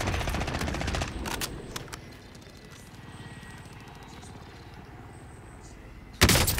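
Gunfire in a multiplayer shooter video game, with rapid rattling bursts at the start, a quieter stretch, and a sudden loud shot near the end, with a voice talking at times.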